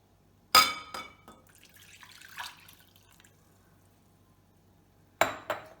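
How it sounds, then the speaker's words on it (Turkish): Water being poured into a glass holding a mint and lime drink mixture, a short splashing pour with glassy clinks, a quiet trickle in between, then another brief splash and clink near the end. "şimdi içine 500 milim suyumuzu katıyoruz"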